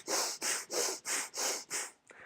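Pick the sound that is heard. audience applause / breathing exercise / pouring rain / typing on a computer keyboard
breathing exercise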